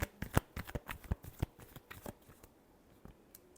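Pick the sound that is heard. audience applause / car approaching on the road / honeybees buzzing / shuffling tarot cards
shuffling tarot cards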